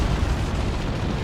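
A looted tank blows up in Dawn of War 2 as one sustained, loud, roaring blast of broadband rumble that holds steady for the whole moment.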